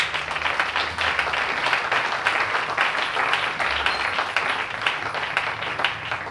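A church congregation applauds during a sermon, a dense steady clapping from many hands that carries on without pause, with no speech over it.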